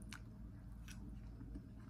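Faint, close chewing of spicy Thai beef nam tok, with a couple of soft wet bites over a quiet background hum and no talking.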